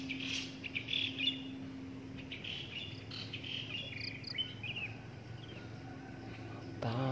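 A black drongo gives sharp, repeated chirping calls near its nest over a steady chorus of crickets, then falls quieter as the insects continue.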